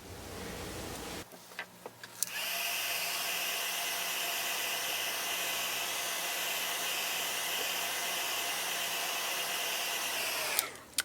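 A dryer blows a steady close whoosh to dry paint on a metal piece for a craft project, starting after a few clicks and handling noises and running alone for about eight seconds before cutting off.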